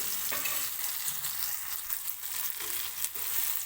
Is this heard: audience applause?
no